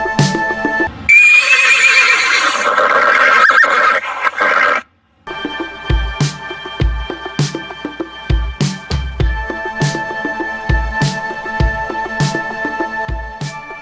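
A horse neighs in a loud, long whinny near the start, followed by steady rhythmic clip-clop hoofbeats that carry on to the end with no voices.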